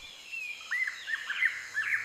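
Birds of paradise in an overgrown, restored old terminal give quick rising chirps and whistled calls, a run of bright notes that grows denser toward the end over a faint airy background.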